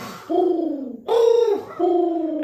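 A person imitates a bird call at night with three loud, drawn-out hooting coos in a steady rhythm, close up and alone.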